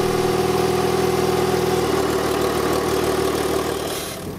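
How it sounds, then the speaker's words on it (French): A car engine, its setting just adjusted, idles smoothly and steadily at close range with an even, continuous hum that fades slightly toward the end. "En le fermant un poil plus, le moteur tourne parfaitement."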